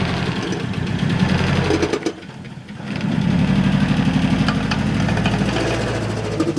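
A nitro RC car engine runs steadily with a loud, continuous buzzing drone that dips briefly before resuming at full volume, close by with no talking.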